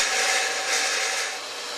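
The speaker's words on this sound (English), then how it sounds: "We'll just take and round off these edges a little bit on the grinder." A bench grinder rounds off the edges of a steel nut piece for bolting shop tools to the floor, giving a steady, loud broadband rasping grind that eases slightly toward the end, with no talking.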